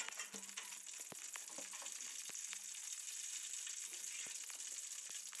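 Cumin and mustard seeds fry in hot oil with a faint, steady sizzle and scattered small pops and crackles.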